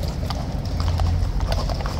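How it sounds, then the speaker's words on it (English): Horses' hooves clip-clop on hard ground at Horse Guards, a steady close run of overlapping hoof strikes under outdoor crowd murmur. "Horses all over the place."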